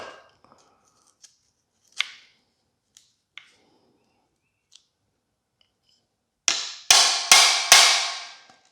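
A few sharp metallic taps ring out at intervals as metal is dinged to mark a drill point, then several louder, quick strikes close together near the end.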